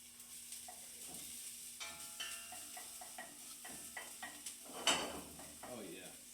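Onions cooking in a pan toward slight caramelization, with a quiet steady sizzle under scattered stirring scrapes and light clinks of utensil on pan, and one louder clatter near the end.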